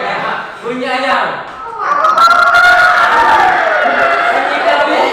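A classroom group of voices imitates a chicken's call together, loud and overlapping, with some chuckling mixed in.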